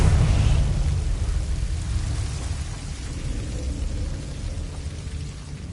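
A Confringo blasting spell explodes in Hogwarts Legacy with a loud, low booming burst at the start that rolls away into a long rumbling decay, heard alone without speech.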